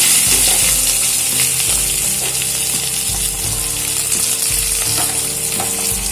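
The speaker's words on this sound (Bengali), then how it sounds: "এবারে এগুলো একটু হালকা ভেজে নেব" Whole garlic and chopped onion fry in a pan with whole coriander, a loud continuous sizzle with scraping stir strokes and clinks throughout.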